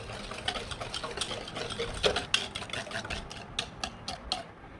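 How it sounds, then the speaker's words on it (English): Whisk working through a sugar mixture for eggless brownie batter, a steady busy scraping and clinking that keeps going for several seconds, with sharper ticks toward the end. "whisk it till the sugar melts"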